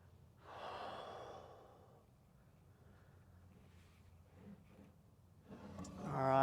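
Slow, audible breaths during a stretching exercise, folding forward to compress the stomach toward the hip flexors: a soft close exhale near the start, quieter breathing through the middle, and a louder rush of breath at the end.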